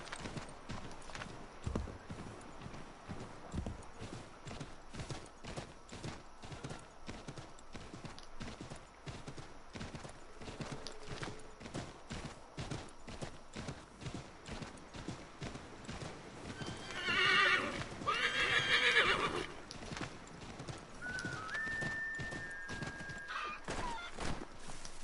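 Horse hooves clop in a steady, repeated rhythm throughout in Assassin's Creed III, with a loud neigh rising near the middle and a whinny-like tone shortly after.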